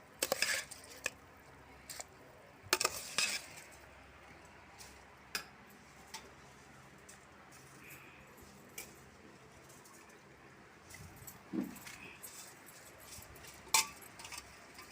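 Rice is stirred into a chicken biryani pot, with faint, scattered clinks and ticks of a spoon against the pot over a quiet kitchen background.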